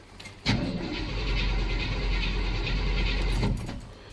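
A 1986 Chevy pickup truck with a bad one-way clutch in its starter cold-starts: a brief crank, then the engine catches and roars loudly for about three seconds before settling, with a bleating-like whine along the way.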